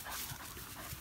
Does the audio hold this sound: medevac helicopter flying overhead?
no